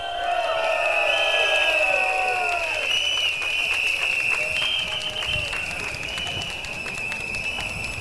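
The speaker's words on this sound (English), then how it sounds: "give yourselves a round of applause" Rally crowd at a Singapore Democratic Party campaign event applauding and cheering, a continuous loud wash of clapping and voices with music tones sustained over it.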